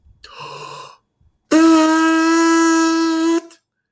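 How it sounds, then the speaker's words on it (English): A short breathy voiced tone, then a steady, loud euphonium embouchure lip buzz held for about two seconds with a strong, bright pitched drone. "you blow out, and it should make a buzzing sound like this"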